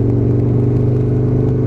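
An Aprilia RSV Mille motorcycle engine pulling under throttle on the road, a loud, steady, deep rumbling drone close to the rider.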